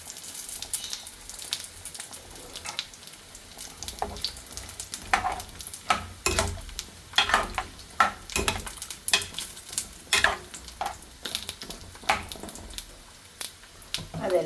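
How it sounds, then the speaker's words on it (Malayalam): Mixed vegetable kurma with turmeric simmers in a pot, bubbling and sizzling softly with repeated light stirring clicks and scrapes, and a voice talks over it at times. "അതെല്ലാം അതിൽ കിടന്ന് തിളച്ച് പച്ചക്കറിയൊക്കെ വരും"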